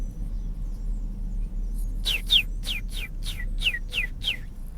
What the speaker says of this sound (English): I hear the birds. Y'all hear the birds?